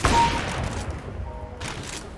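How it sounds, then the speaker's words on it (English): Video game gunshots heard through a Razer Kraken V3 HyperSense headset: a loud close burst of rapid fire at the start, followed by a decaying rumble and fainter distant shots. "I had no clue that guy was there until he shot."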